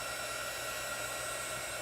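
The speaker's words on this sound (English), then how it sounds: "I'm going to break out the dryer again because I don't want this part of my and to pull up if it's still wet" A handheld heat tool blows continuously while drying chalk paint on a craft project, giving a steady, close whirring hiss with no breaks.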